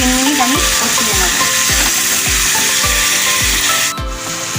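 Ginger, garlic, tomato and green and dried chilli paste frying in a pan, with a steady sizzle and a regular run of dull scraping thumps as it is stirred.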